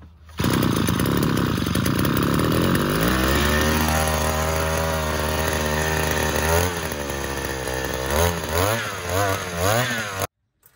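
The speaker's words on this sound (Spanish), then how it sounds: "abrimos el grifo en posición toma de aire y ya podemos arrancar nuestra podadora." A small two-stroke petrol pole pruner engine starts and runs loud and close, revving up and down with a steady buzzing drone throughout.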